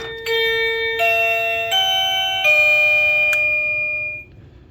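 A wireless doorbell chime rings out clearly, a descending sequence of bright bell-like tones that ring on and fade, with no talking.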